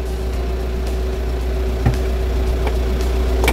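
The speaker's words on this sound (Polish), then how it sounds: "Odpalamy ciągnik" A tractor engine runs at a low, steady idle with a constant deep hum and faint mechanical knocks, close by and without speech.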